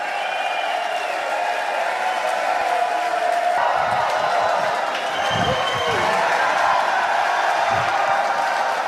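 A large shareholder meeting crowd applauds and cheers the approval of Elon Musk's $56 billion performance-based pay package, a sustained roar of clapping and whoops with louder swells midway through.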